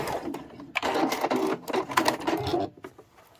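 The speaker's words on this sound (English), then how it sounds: "we're just going to rotate and then sew roughly off the corner" Sewing machine stitching a small quilted fabric mug rug, running in quick bursts of steady mechanical whirring with brief pauses between runs, close and fairly loud.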